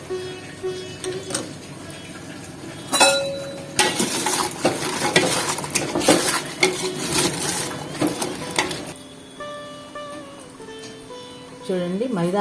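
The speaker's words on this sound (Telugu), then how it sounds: "ఆ పాకంలో వేసేసుకుంటున్నాను." Fried maida and jaggery biscuits being stirred into thick jaggery syrup in a pan: scraping and clinking of a spoon against metal with soft sizzling, irregular bursts, and someone talking near the end.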